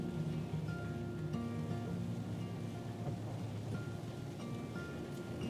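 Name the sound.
rain falling while driving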